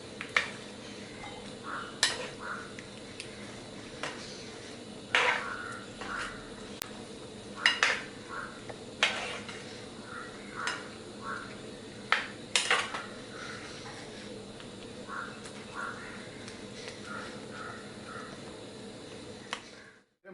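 Chicken being stirred in a pan for a ginger chicken dish, with intermittent scraping and clinking of a utensil against the pan in an irregular rhythm, close and moderately loud, with no talking.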